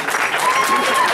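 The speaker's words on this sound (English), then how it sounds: "have a big round of applause for our maid of honor." Wedding guests at a reception burst into applause for the maid of honor after a toast; a short, loud, dense wash of clapping with some cheering mixed in.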